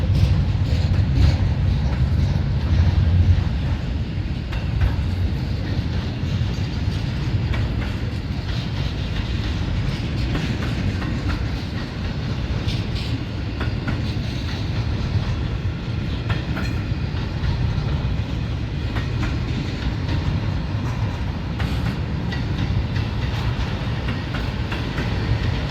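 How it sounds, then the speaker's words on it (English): A long southbound freight train hauled by LNG locomotives out of Jacksonville, Florida, rolls slowly past, giving a steady, continuous heavy rumble of wagons with faint rhythmic clanks and no talking. "This is going to be a long train, and it's going slow"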